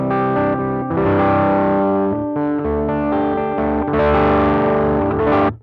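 A guitar runs through a BOSS FBM-1 59 Bassman effects pedal with treble turned down, giving a darker, muffled, mildly overdriven tone. Loud sustained chords and picked notes play steadily with short pauses between phrases.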